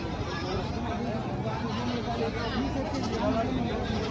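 Goats and sheep bleat amid a busy crowd murmur at the large goat market in Ghodegaon, Maharashtra, calls overlapping against steady market chatter and bustle.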